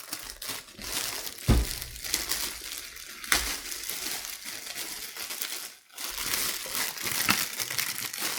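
Plastic packaging crinkles and crackles steadily while the EcoloxTech Eco One hypochlorous acid machine is unboxed, with a couple of sharper crunches and a brief pause near the end, close and fairly loud with no talking.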